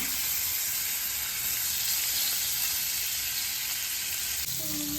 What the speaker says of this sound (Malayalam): ചോപ്പ് ചെയ്ത് വെച്ചേക്കണ പനീർ ആഡ് ചെയ്ത് കൊടുക്കാം. ഒന്ന് ലൈറ്റായിട്ടൊന്ന് ഫ്രൈ ആക്കാൻ.